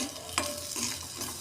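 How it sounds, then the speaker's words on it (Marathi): Fresh grated coconut and almonds sizzle softly in ghee while being stirred in a pan, a faint, quiet crackle with a brief scraping stir partway through. "इथं आपण ओले खोबरे घेतलेले आहे, ते चांगले असे तुपात परतून घ्यायचे आहे"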